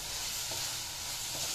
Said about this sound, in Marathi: आपण मिडियम गॅस करून हे सतत असं हलवत राहायचं।